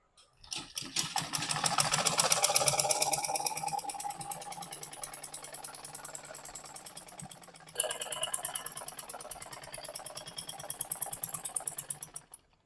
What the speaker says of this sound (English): We have to sew the sleeve down to the end.